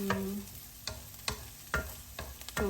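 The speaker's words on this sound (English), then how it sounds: "Now everything is sauteing quite well." Rice and vegetables sautéing in a pan, with a low steady sizzle broken by several sharp scraping stirs of a utensil at irregular intervals, close and moderately loud, with no talking.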